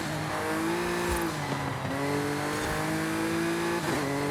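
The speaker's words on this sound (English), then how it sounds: "Four-wheel drifting" A 2018 Audi RS4 Avant drifts in Forza Horizon 5, its engine loud and close, with repeated rising revs and gear-shift drops over a continuous tire and road roar.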